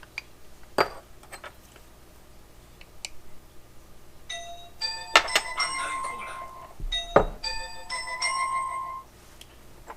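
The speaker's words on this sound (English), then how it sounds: "Hate phone calls when I'm doing something." A phone rings in a home kitchen during no-knead bread prep, its bright electronic ringtone repeating in bursts through the second half, after a few sharp clinks of kitchenware.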